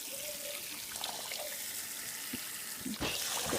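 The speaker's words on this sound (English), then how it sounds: "just gonna gently wring it out" Wet blueberry-dyed yarn is gently wrung out over a bowl, giving close, soft trickles and drips of water with a fuller splash near the end.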